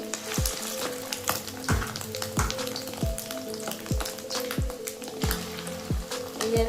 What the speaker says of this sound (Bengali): আমি বড়াগুলো ভেজে নেবো